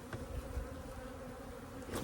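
Honeybees buzzing steadily around a nucleus hive just after a transfer, a dense low drone from many insects close by with no talking.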